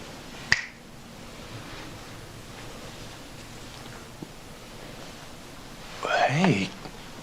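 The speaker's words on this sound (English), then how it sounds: "When I snap my fingers, you will awaken and remember everything you've seen." A single sharp finger snap cracks out near the start, followed by quiet room tone and then a short burst of speech.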